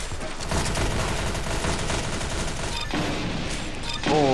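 Rapid bursts of gunfire in the Roblox shooter game Arsenal, a loud, continuous volley of shots running nearly unbroken, with a sharper burst near the end.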